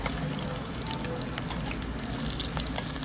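Zucchini slices frying in a pan for spaghetti al Nerano give a steady, dense sizzle with small crackles and a brief brighter burst near the end, heard up close with no talking.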